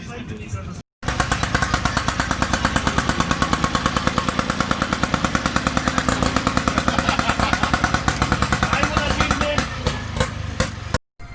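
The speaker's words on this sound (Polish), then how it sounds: "Dźwięk silnika, którego nie można pomylić z żadnym innym, czyli bawarskie 6 cylindrów." A classic BMW six-cylinder engine runs at an outdoor show of vintage and classic vehicles, a loud, close, rapid rhythmic pulsing that continues steadily for about ten seconds after a brief start, with a voice speaking over it.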